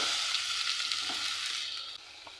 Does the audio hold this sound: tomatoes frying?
yes